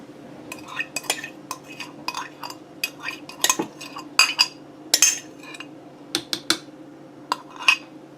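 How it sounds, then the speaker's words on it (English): A frozen pineapple ice cream mixture is scraped out of a container with a utensil, giving close irregular scrapes, clinks and knocks against the dish at an uneven pace. "I'm going to go ahead and put my pineapple mixture in there. Scrape some of that out."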